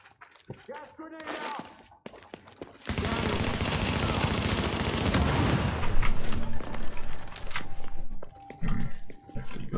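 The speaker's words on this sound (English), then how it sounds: "Gas grenade out!" A gas grenade goes off in The Division during a gunfight: a loud, dense burst of noise takes over about a third of the way in and stays heavy, mixed with gunfire, after brief talk.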